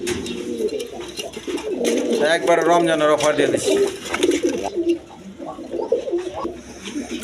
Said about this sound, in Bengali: এক পেয়ার স্প্রিং গলা কষা কবুতর